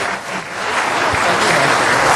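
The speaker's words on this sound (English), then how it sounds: "Thank you for the applause." Applause at a city council meeting: a steady wash of clapping from the chamber that swells slightly and holds.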